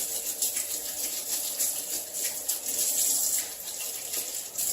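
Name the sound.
washing hands under running tap water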